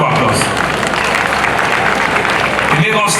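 An audience at a school infrastructure commissioning ceremony in Lagos breaks into applause, a loud, dense, continuous roar of clapping that holds steady from start to finish.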